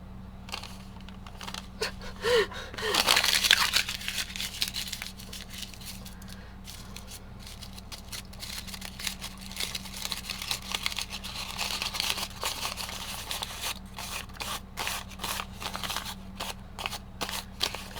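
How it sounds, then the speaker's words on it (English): A brown paper bag crackles and crinkles close up as it is scrunched, with a louder burst early on and then irregular rustling throughout. "I'm going to crumple it up."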